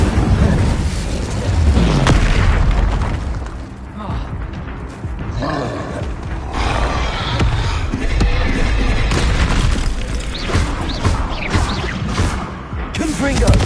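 A fire spell cast in the Hogwarts Legacy video game, with loud, dense whooshing and rumbling bursts running continuously through a busy battle mix.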